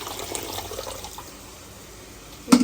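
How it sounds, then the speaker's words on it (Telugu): Hot water splashes into a pot of mutton, a close, rushing pour that fades to a quieter trickle. A sudden splash or knock comes near the end. "సో ఇగోండి, వేడి నీళ్ళు అయితే వేస్తున్నా"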